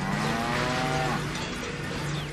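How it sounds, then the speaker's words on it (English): A cow moos in the Deadpool video game, set on Genosha, a single drawn-out low bellow with harmonic bands sustained over a steady bed of game background noise. "What? A cow?"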